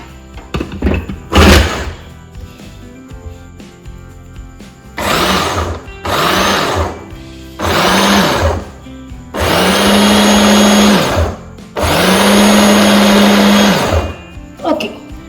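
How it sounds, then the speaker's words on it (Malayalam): A kitchen blender whirs through a breakfast mixture with added milk in repeated bursts, short pulses at first and then longer steady runs, loud and close with thunks between them. "കുറച്ച് പാല് ഒഴിച്ചു കൊടുത്തതിന് ശേഷം നമുക്കിതൊന്ന് ബ്ലെൻഡ് ചെയ്തെടുക്കാം"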